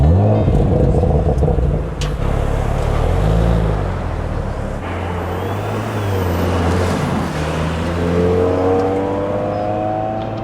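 Audi RS4 with a 2.9 litre twin-turbo V6 driving on the road, a steady loud engine drone with shifting tonal revs rising and falling, close and continuous throughout with no talk.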